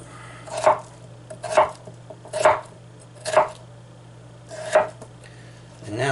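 A kitchen knife chops potato fries into half-inch cubes on a board, five evenly spaced crisp thuds with a short sixth starting at the end, close and clear with no talk.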